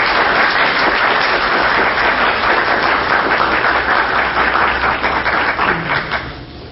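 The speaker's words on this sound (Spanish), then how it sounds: "Les pido un fuerte aplauso." An audience at an academic information forum applauds in a dense, steady wash of many hands for about six seconds before it thins and fades out.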